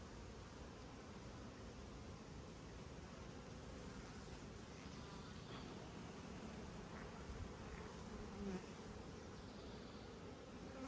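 Honey bees hum around an opened hive with frames of capped honey and brood, a faint, steady swarm buzz that stays continuous throughout.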